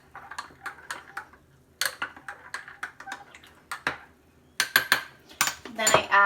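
A spoon stirs a turmeric drink of powder and hot water in a cup, producing bursts of quick ceramic clinks and taps with short pauses, close by.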